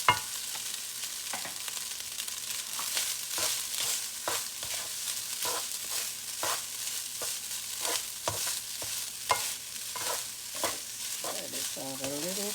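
Rice stir-fried in a hot pan for shrimp fried rice, with a steady close sizzle broken by frequent sharp scraping and clattering strokes of the spatula against the pan throughout.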